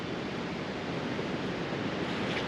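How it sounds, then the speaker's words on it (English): Floodwater rushes through a swampy driveway ditch after weeks of rain, a loud, dense, steady roar close to the microphone. "Look at how the water is just running down there"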